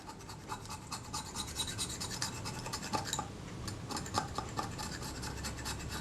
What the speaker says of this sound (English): I'm just going to use my scalpel to make sure I can scrape off all the big lumps